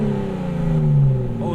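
A Nissan Laurel's RB20 engine revs with a smooth, rising and falling tone, close and fairly loud, while voices talk over it.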